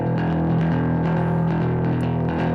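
A distorted high-register bass track from a rock cover, the low end split off and thinned out, playing alone as a dense, gritty, driving line with steady rhythmic pulses.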